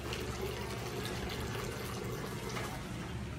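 Water trickling slowly from a kitchen tap, a steady continuous run that carries on throughout.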